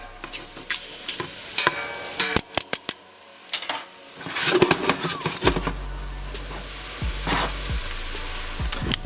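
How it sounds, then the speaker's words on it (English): Bacon renders its fat over low heat in a pan, a steady close sizzle broken by a run of sharp clatters and scrapes as it is stirred, then a low hum under the frying. "we're gonna let this bacon render down its fat"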